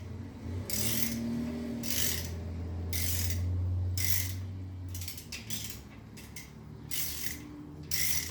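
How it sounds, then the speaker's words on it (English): Repeated bursts of ratcheting clicks from a torque wrench tightening bolts on an 800hp engine short block during assembly, several clusters of sharp ratchet clatter spaced through the stretch, close and fairly loud over a low background hum. "So, Pauter told me I need to torque these to 50 foot-pounds."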